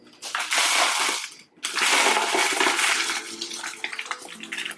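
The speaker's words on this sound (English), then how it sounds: "I just watered it today, so there's water leaking out of it" Water draining and splashing out of a freshly watered Monstera Albo pot during indoor repotting, a loud rushing trickle that breaks off briefly, then resumes and fades into smaller drips.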